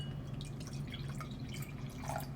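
Sparkling apple grape drink is poured, giving a quiet fizzing patter of small drips and bubbles over a low hum, with no talking.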